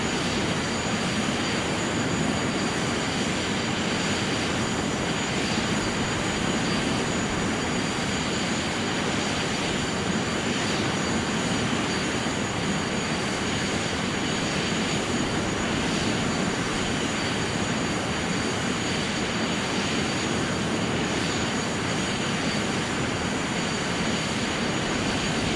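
Airliner jet engines in a flight simulator game, a continuous loud, broadband roaring whoosh with a faint high whine, steady for the whole stretch with no voices.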